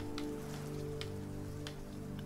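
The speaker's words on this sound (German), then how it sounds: "Hallo Regen." Steady rain patters across the whole stretch in the video game Deiland, a dense, even hiss with a few brighter drop ticks, alone with no voices.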